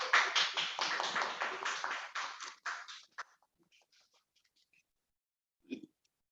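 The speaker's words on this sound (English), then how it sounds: "those who are around, kindly clap your hands" Online attendees clapping at a webinar book release: a quick run of claps for about three seconds, then a few scattered faint taps and one brief later sound.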